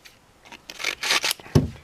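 Sandpaper on a sanding block rasps across painted bodywork in a few short, quiet strokes, followed by one brief louder scrub near the end.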